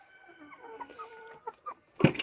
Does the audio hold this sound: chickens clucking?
yes